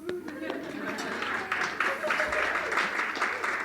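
Audience at an event on defending democracy clapping in a steady patter of applause, with a voice speaking over it throughout.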